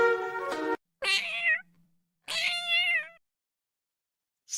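A cat meows three times up close, each a clear, drawn-out cry with gaps of silence between, followed by the start of a fourth.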